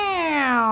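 A cat lets out a single loud, clear meow that slides gradually downward in pitch, close and unaccompanied.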